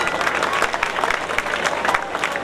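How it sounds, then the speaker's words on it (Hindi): Audience clapping for a revered Maharaj seated on stage at a religious gathering, a dense steady patter of many hands throughout, fairly loud with some crowd noise mixed in. "एक बार जोरदार तालियां लगाइए इनके लिए"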